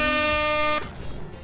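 A loud air horn played from a phone app blares as one steady, harmonically rich tone that cuts off after under a second, leaving faint background noise.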